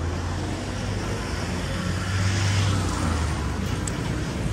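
Busy street traffic in Manila, Philippines, outside an Andoks roast chicken shop, with a steady, loud roar of car and engine noise that swells briefly, and no clear voices.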